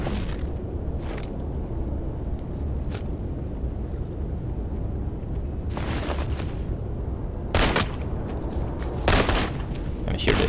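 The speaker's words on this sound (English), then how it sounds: "Here they start shooting" Enemies open fire in the VR shooter Into The Radius 2. Several sharp bursts of gunfire crack out at irregular intervals over a low rumbling background, with talk running throughout.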